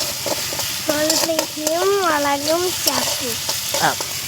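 Mustard seeds, onion, chili and moringa leaves fry in a hot pan with a steady sizzle and crackle, stirred now and then, while voices speak over the cooking.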